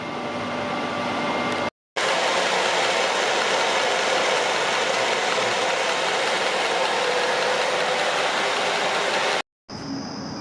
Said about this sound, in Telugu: పెద్ద మోటార్ కూడా ఆన్ అయిపోయింది.